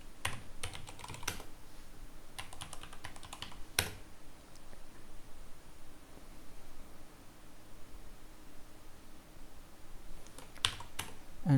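Terminal commands being typed on a computer keyboard: quiet, quick key clicks in short flurries with pauses between, a few sharper strokes, close and alone.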